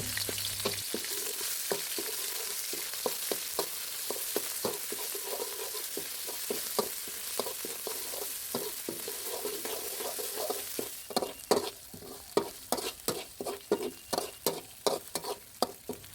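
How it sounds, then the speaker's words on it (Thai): Red curry paste sizzles as it is stir-fried in a little vegetable oil. The frying hiss is steady, with rapid repeated scraping taps from stirring that grow louder and sharper toward the end. "ตามด้วยพริกแกงเผ็ด 50 กรัม ครับผมใส่ลงไปผัดกับน้ำมันให้หอมก่อนครับ"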